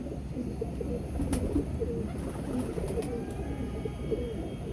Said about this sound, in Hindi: फिरोजपुरी ओरिजिनल कबूतर है।